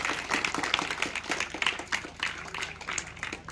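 Scattered applause and clapping from an audience at a karate event in Jagtial, fairly faint and uneven across a few seconds, with some voices in the background.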